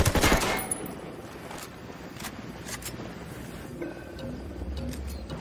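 Gunfire in Ghost Recon Wildlands opens with a loud close burst of rapid shots, then sparser distant pops and cracks over a low rumbling ambience with faint wind.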